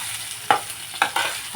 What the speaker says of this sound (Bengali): আলু আমি 2 মিনিটের মতো একটু লালচে করে ভেজে নিচ্ছি।